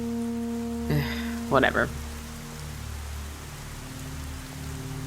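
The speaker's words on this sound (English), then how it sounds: "Who walks in the rain like that?" Steady rain falls in the video game Last Stop, a soft continuous hiss under sustained musical tones, with a brief spoken word near the start.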